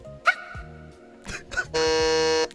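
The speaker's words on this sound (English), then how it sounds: "That's a hiccup, bro." Zoe's hiccup from the video game League of Legends plays as a few short squeaky chirps and tonal blips, ending in a loud, sustained buzzy tone.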